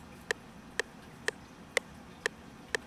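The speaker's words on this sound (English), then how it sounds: "You can hear there's the metronome." A software metronome in FL Studio ticks steadily, six evenly spaced sharp clicks about half a second apart, faint over a soft background hiss, with no voices.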